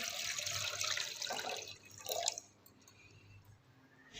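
Water from a tap poured into a pan for suji halwa syrup, a soft gushing splash that fades out after a couple of seconds, followed by faint drips and quiet.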